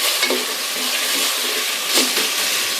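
Pieces of taro sizzle and fry in masala in a pan with a steady, close hiss, broken by a few scraping stirs. No voices are heard.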